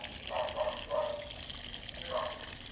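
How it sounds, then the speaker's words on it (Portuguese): Water falls into a drainage channel at a floor drain, making a faint, steady trickle with a few soft splashing bursts. "A água cai na canaleta"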